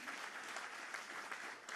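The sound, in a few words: audience applause at awards ceremony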